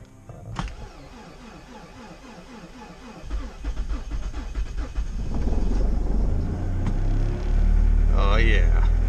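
A Honda CRX makes a below-zero cold start, its blower motor and engine churning into a rising, rough drone that grows louder and steadier, with a voice briefly heard near the end.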